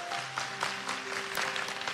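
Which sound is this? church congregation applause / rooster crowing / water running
church congregation applause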